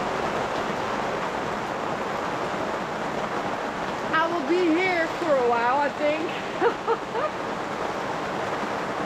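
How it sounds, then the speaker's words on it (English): Heavy rain drums hard and steadily on the plastic roof of a polytunnel on a homestead in central Portugal, a dense continuous roar with a person talking briefly over it partway through. "Woo! That's a lot of rain."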